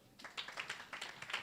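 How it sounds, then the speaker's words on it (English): An audience clapping for themselves at a motivational speaking event, quiet and brief, a ragged run of overlapping hand claps at moderate distance. "I want you to clap for yourself"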